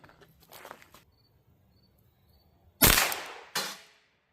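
Two sharp, loud gunshots from a Ruger 22 Charger .22LR pistol fired outdoors, the second coming less than a second after the first, each ringing out briefly after faint background rustling.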